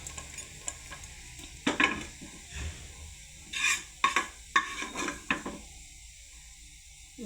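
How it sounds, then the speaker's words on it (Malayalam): Mustard seeds frying in a pan, heard as a soft sizzle with scattered sharp pops and crackles plus a few utensil taps, close by, with no talking. "നമുക്ക് കുറച്ച് കടുക് വറുത്തിട്ട് കൊടുക്കാം."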